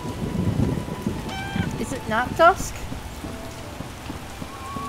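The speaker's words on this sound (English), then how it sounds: "It rains and it pours." Rain pours steadily in The Witcher video game, a soft, constant hiss running under the scene while someone speaks briefly and a few short in-game tones sound over the downpour.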